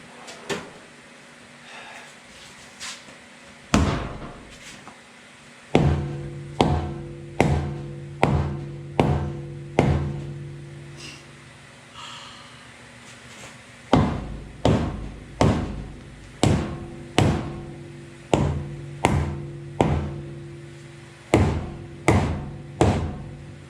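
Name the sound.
rubber mallet hammering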